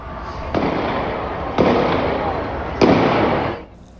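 Three sharp gunshots ring out about a second apart over a steady crowd roar at a street protest in downtown Salt Lake City, each with a brief echoing tail, fairly loud and close.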